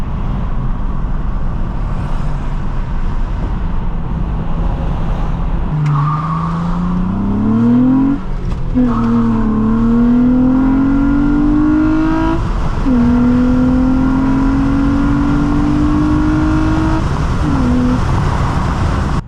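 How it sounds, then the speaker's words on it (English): A 2005 Nissan Altima 3.5 SE-R engine hums inside the cabin, then revs up through several rising gear shifts as the car accelerates, loud and close. "Today we're driving a 2005 Nissan Altima SCR"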